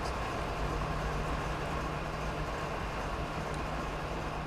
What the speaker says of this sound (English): Train going back up.